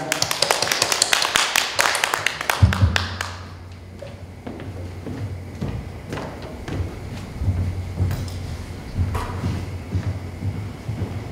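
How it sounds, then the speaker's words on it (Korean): An audience claps to welcome a lecturer at a film-festival forum on housing, a dense burst of applause that thins into scattered claps, with a low hum and a few voices underneath. "우리 박수로 김명수 선생님 모시겠습니다"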